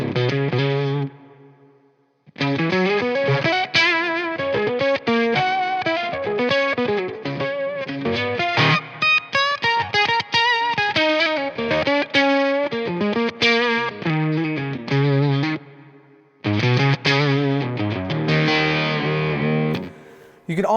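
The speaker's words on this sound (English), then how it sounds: "The Argonaut is next, and it's like a clean octave." Clean octave guitar pedal, the Argonaut, on a pedalboard: a sustained, harmonically rich guitar line with doubled octave tones, played continuously with a brief pause near the start and another near the end, loud and up close.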